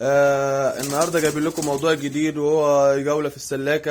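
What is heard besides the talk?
pigeons cooing in a pigeon loft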